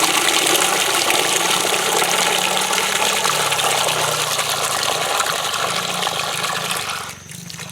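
Spring water pours steadily from a pipe into a drum at an off-grid cabin water source, a loud continuous rushing splash that holds for several seconds before dropping off near the end.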